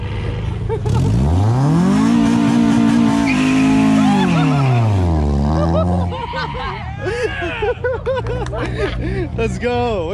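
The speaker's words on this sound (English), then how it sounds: "Let me see that front wheel drive burnout." A front-wheel-drive Infiniti G35-era street car revs hard and squeals its tires in a burnout attempt, rising and falling screeching tones up close, followed by a burst of shouting and cheering from people nearby.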